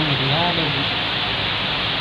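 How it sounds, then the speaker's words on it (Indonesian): Steady rain falling outside, a dense even hiss filling the whole moment at moderate level, with a voice talking briefly over it near the start. "Ya Allah hujan."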